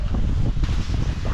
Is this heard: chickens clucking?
no